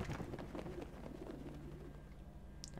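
A pigeon coos in Prey (2017), with soft, low repeated coos close by against a quiet background, followed by a faint brief chirp near the end.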